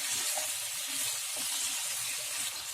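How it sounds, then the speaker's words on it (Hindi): Potato slices frying in a pan over high flame, a steady close hiss and sizzle with faint low bubbling underneath and no voices. "आलू डालने के बाद हाई फ्लेम पे इन्हें अच्छे से फ्राई कर लें।"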